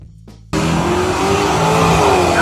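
A 1970 AMC Hornet SC/360 muscle car roars in loud and close after a brief quieter lead-in, its engine note staying strong and steady with a hint of tire noise.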